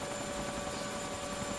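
Helicopter engine in the video game ARMA II, a steady droning whine with a constant hum and faint rotor pulsing, even and unbroken throughout.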